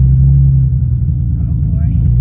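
Car reversing slowly just after a clutch adjustment: a loud, steady low engine drone heard close from the cabin, with a voice briefly over it.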